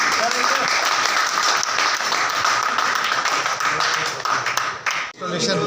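A hotel seminar audience of a traders' association claps loudly and steadily, a dense continuous wash of applause with some chatter mixed in, cutting off abruptly near the end.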